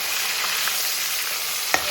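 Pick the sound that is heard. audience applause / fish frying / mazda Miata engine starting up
fish frying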